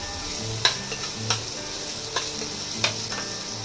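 Cabbage and carrot cook in a pan with a steady low sizzle, while four sharp, evenly spaced scrapes or taps of a spoon against the pan punctuate the frying.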